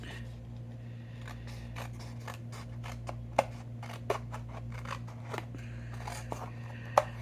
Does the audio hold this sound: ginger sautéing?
no